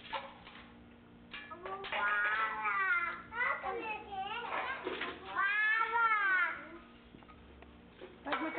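A small child imitates a cat with several drawn-out, rising and falling meows at a 1999 carnival gathering, close and fairly loud, with adult voices talking around and between the cries.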